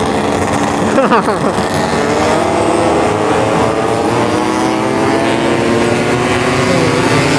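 Two-stroke motorcycle engines revving hard at full throttle, loud and continuous with rising and falling high-pitched whine throughout, and voices faintly underneath.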